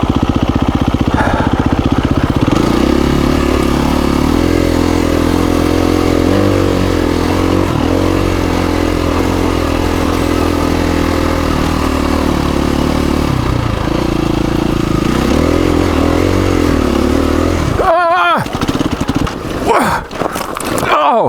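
Motorcycle engine running loud and steady while being ridden toward Trona Pinnacles, with a rumbling tone throughout and a person talking over it, ending in a brief burst of wind buffeting near the end.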